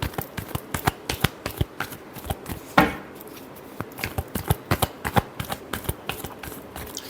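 Tarot deck shuffled by hand, a rapid run of crisp card slaps and riffles with one louder flutter partway through, close and alone.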